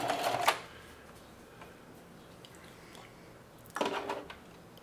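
A sewing machine back stitching an apron strap runs in two short whirring bursts, one at the start and one near the end, with a quiet gap between them.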